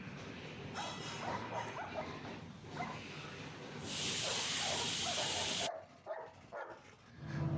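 Pet dogs bark and yip repeatedly during heavy rain in the Tenkasi area, over a constant hiss of rainfall that swells into a loud spray midway before dropping away.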